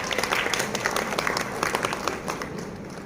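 A small audience at a theatre festival claps for a play's director, a short burst of steady, dense applause heard close throughout.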